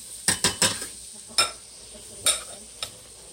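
Potatoes with butter and seasoning are tossed in a dish, making a handful of sharp scraping clatters of utensil against the container in an irregular rhythm, close and clear, with no talk.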